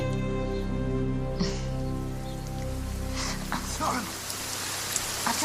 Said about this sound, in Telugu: వర్షం ఆగట్లేదు.